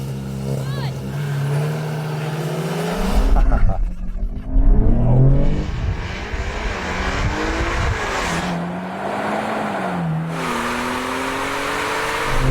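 Porsche 911 Turbo S and Skoda Superb sleeper in a drag race, engines roaring and surging loudly with rising and falling revs through shifts, under excited talk from people nearby.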